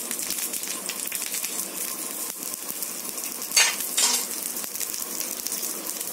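Onion pesarattu, a mung bean crepe, roasting in oil on a pan, giving a continuous close, bright sizzle with a brief louder spatter burst midway and no voices.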